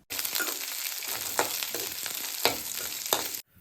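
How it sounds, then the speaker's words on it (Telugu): Onions and chillies frying in oil while being stirred for a village-style bottle gourd curry, a close, steady sizzle punctuated by several scraping stir strokes over about three seconds. "మిరపకాయలు అయితే వేసేసుకుందాం కలిపేసుకుందాం"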